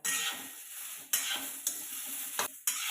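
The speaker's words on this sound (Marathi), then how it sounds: "सगळं आपण छान भाजून घेऊ आता" Tomatoes, beetroot and masala roast in a pan under a steady, loud hiss of frying, broken every second or so by sharp scrapes as the mixture is stirred.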